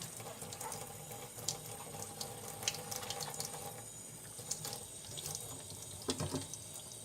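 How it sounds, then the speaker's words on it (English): Tap water runs steadily into a kitchen or bathroom sink while something is rinsed off under it, with small splashes and clatters breaking through the continuous flow. "I'm gonna quickly rinse this off."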